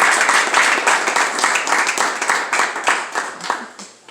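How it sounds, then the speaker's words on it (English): Applause for the commanding officer at a clergy council holiday brunch, loud close clapping from a room of guests with a rhythmic, slightly uneven pulse that tapers off near the end. "So can you give the CO an applause?"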